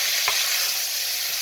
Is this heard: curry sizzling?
yes